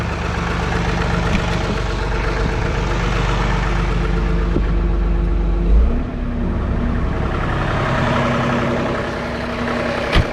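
A John Deere 3046r compact cab tractor with a grapple runs steadily near the listener, its engine note rising in pitch partway through as throttle is added, then holding a firmer, higher drone to the end.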